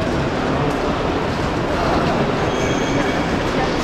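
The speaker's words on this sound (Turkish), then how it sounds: "Tren garının içinde." Dense, echoing ambient rumble fills a Moscow train station, with rolling low noise and faint high squeals like train wheels in the distance.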